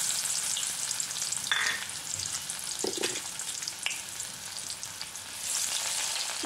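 Sliced shallots fry in two tablespoons of hot coconut oil in a pan, giving a steady close sizzle with a few brief stirring clatters throughout.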